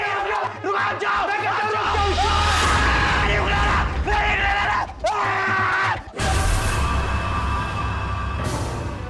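A man screams in a tense drama scene, with loud, drawn-out anguished yells and bellows repeated several times, separated by brief gaps.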